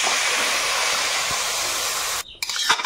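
Loud steady hiss of water hitting a hot pan of fried turmeric fills most of the stretch, then cuts off sharply and gives way to lighter, uneven bubbling and clatter near the end.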